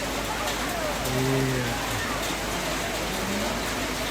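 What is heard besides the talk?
rain falling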